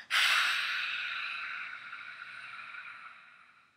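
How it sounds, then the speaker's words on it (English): A single forceful lion's breath exhale in pranayama practice, a loud breathy rush of air that starts abruptly and slowly fades over several seconds, close and alone. "Ready for a lion's breath."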